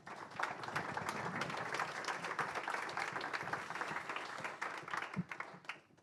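A seminar audience at a programmatic digital out-of-home advertising morning event applauds a panel of four speakers, a dense, steady wash of many hands clapping that carries on evenly for several seconds before tapering off at the end.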